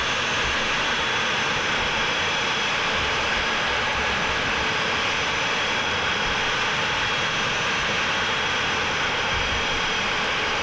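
Boeing KC-135R jet landing in Microsoft Flight Simulator, a continuous loud roar of the engines with broadband rushing air, steady throughout with no voices.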